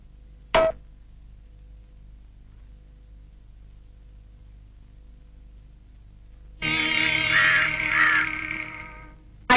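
A crow caws with one sharp, brief call near the start, then a longer, harsh, rasping stretch of calling after a quiet gap, fairly close and with no talking.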